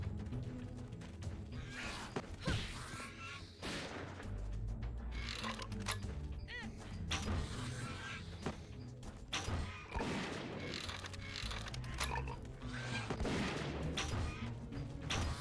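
Rapid bursts of gunfire from a PC video game shootout at rabbits, dense and continuous with heavy thumps and cracks layered over each other, loud and close throughout without talk.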